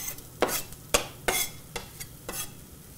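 Onions, peppers and mushrooms cook in a pan for a vegetable risotto: a low sizzle runs throughout while a spoon makes about five distinct scraping strokes against the pan.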